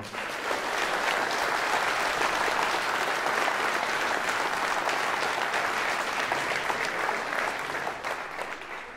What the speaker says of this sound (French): Je vous demande d'applaudir Catherine Gavril